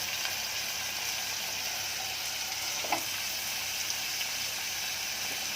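Onions sizzle steadily in a hot pan for gawar bhaji, a constant close frying hiss with a faint clink partway through and no talk.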